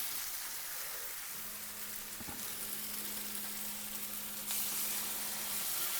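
Hot water poured into a pan of crab roast masala, a steady loud hiss and sizzle with bubbling, a faint hum beneath and a brief clink partway through.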